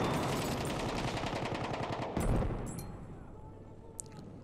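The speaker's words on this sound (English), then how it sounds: "Dropped a little grenade there." Battlefield 1 rattles with rapid gunfire on the Tsaritsyn map until a grenade bursts with a heavy boom just past the two-second mark, then fades to a quieter tail with a faint later pop.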